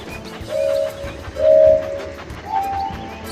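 A train in a mobile track-steering game rolls along with a steady rumble, while three clear tonal whistle-like notes sound in turn above it.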